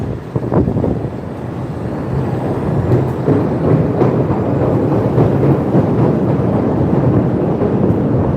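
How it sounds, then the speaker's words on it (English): A heavy rumbling train pulling out of a Chicago station, a broad continuous low roar with hissing air-brake bursts early on, steady and loud throughout. "There's the train pulling out of the station."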